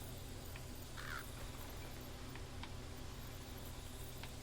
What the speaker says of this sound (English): Oh, did I hear a bird?